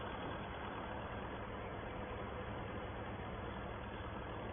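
A John Deere tractor engine runs steadily from a 1951 harvest scene, a continuous even drone with a low rumble that holds at a constant level throughout, with no voices.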